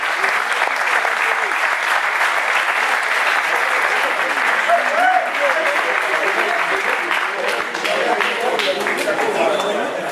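A crowd claps for the driver with the fastest race lap at a corporate karting challenge prize-giving, sustained even applause with faint chatter mixed beneath it.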